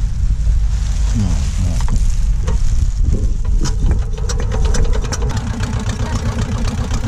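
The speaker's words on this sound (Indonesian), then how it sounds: "Jadi ini Pak Bolo nyalain mesin buat bensin oksigen nih pemirsa." A small engine driving a compressor that supplies diving air on a fishing boat runs loud and steady with a rough, chugging drone. People talk over it.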